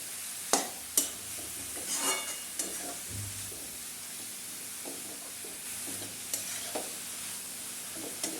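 Cabbage stir-fry is stirred in a hot pan after salting, with a steady sizzle under repeated scraping strokes and a few sharp knocks of the spatula against the pan.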